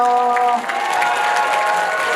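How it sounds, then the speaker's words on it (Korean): Parents at a kindergarten recital for five-year-olds clap in a short, steady burst of applause, with a faint lingering tone fading at the start. "박수 보내주세요."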